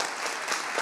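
An audience at a climate action forum claps in a brief, soft burst of scattered applause, heard alone without talk.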